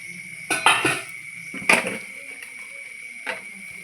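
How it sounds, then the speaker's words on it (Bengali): Lid being twisted off a jar of sweet mango pickle: a few short metallic clicks and scrapes in separate bursts, close and fairly loud with quiet gaps between. "তারপর আমি ঢাকনাটা খুলে নিচ্ছি"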